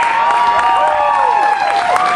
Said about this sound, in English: Come on, guys, let's cheer.